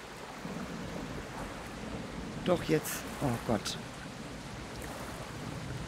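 A steady wash of rain and stormy rumble fills a thunderstorm in the survival game Project Castaway, running under a woman's brief exclamations in German.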